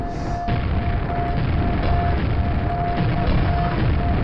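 A grenade blows up in the Quake video game, starting with a sharp burst and then a heavy, booming low rumble that keeps rolling and crackling loudly for several seconds, with a thin steady tone running through it.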